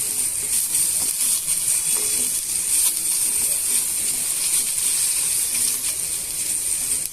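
Potatoes fry in a pan for a dry roast, a continuous bright, even sizzle and hiss at steady loudness with occasional faint clinks, with no talking.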